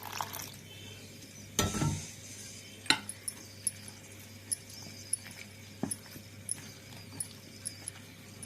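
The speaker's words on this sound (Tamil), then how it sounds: "கொஞ்சம் கொஞ்சமாக தண்ணி சேர்த்து அப்படியே மிக்ஸ் பண்ணிக்கலாம்." Ragi batter for vegetable bun dosa is stirred while water is added bit by bit, giving one louder splashy scrape followed by a steady run of light, evenly spaced clicks and taps of the spoon against the bowl, close up.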